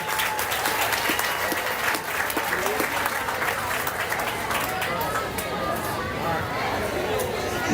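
A county fair crowd at a mutton bustin' event claps and cheers in sustained applause, with chatter and voices mixed into the steady roar from start to finish.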